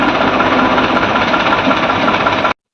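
HMT tractor engine running, steady and close, a dense knocking diesel rumble held at an even level for a few seconds before it cuts off abruptly.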